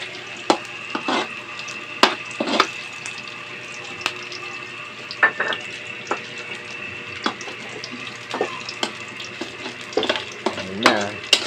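Garlic sautés in a pan with a steady soft sizzle, broken by repeated clinks and scrapes of stirring close by.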